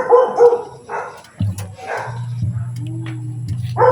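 A dog barks in a few short, sharp yips and whines close by near a fishing scene, while people talk over it and a low engine-like drone runs underneath.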